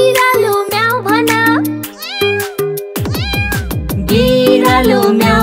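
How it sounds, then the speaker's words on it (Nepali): Cat-like meows sound repeatedly within a bouncy Nepali children's rhyme, with tonal, pitch-gliding mews mixed among musical notes and sung voices. "बिरालो म्याउ भन"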